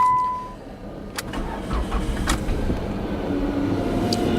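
A turbocharged Chrysler PT Cruiser Turbo Convertible Touring with 89K miles cranks and fires up, the engine catching after a brief start and settling into a steady mid-pitched idle, recorded close with no voices.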